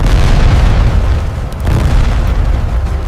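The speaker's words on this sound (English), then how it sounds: "The missile strikes, and Vasquez's Skyhawk breaks apart." A heavy, booming missile explosion striking a Skyhawk jet rolls on as a dense, rumbling roar with a brief dip before surging again.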